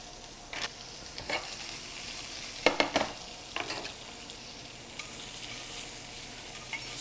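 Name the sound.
shrimp and salmon sizzling and stirred in a pan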